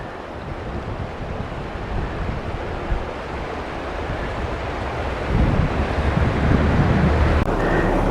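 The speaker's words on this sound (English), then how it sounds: "This is the creek that runs through the canyon." Creek water rushing through a canyon in Zion National Park, Utah, a steady broadband wash with wind buffeting the microphone, growing somewhat louder and fuller over the last few seconds.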